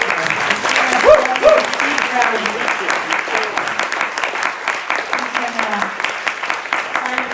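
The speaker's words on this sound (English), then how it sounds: "Let's have it, a round of applause" An audience at a legislative forum gives a round of applause, a dense, steady wash of many hands clapping that holds evenly for several seconds, fairly loud, with faint voices underneath.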